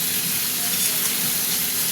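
Masala spices frying in a pan with salt for a mixed-vegetable curry, giving a steady, close sizzle that holds even throughout without a break.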